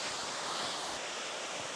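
Steady broadband rush of a waterfall, constant and fairly close, with no voices over the continuous white-water roar.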